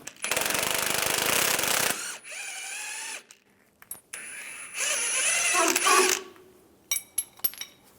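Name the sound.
15mm wrench and socket loosening sway bar link nut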